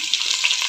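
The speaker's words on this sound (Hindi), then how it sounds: "थोड़ा लहसुन को हम भूनेंगे फिर हमें इसमें डालूँगी प्याज" Garlic and onion fry in a pan, heard as a brief, steady hissing sizzle close by with no voices.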